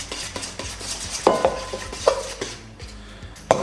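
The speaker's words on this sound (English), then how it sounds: "Pasta is here, sauce is here. We mix them" Pasta being stirred together with a creamy cacio e pepe sauce in a pan, with repeated wet clinks and scrapes of a utensil against cookware and a few sharper knocks, close and moderately loud.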